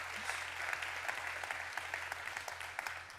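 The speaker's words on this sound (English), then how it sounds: "Please give Matthew a big round of applause." An audience claps for Matthew in a steady burst of applause lasting about three seconds, dense and even, with a low hum underneath.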